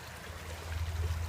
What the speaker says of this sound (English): I open the red valve again. Let the water start flowing.